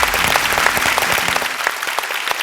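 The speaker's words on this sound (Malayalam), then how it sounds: "അപ്പൊ ഒരു നല്ല കൈയടി" A stage audience at a lookalike performers' mega event bursts into dense, sustained clapping that fills the whole short stretch at close range.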